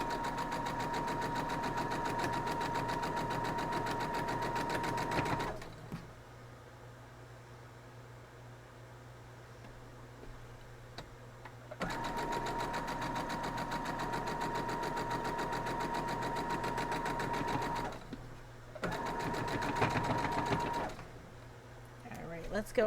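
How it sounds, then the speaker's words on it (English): A sewing machine stitches quilt block pieces together in steady, whirring bursts, pausing twice between seams with quiet gaps, then running again close by without any talk. "I'm going to take these over and sew them together."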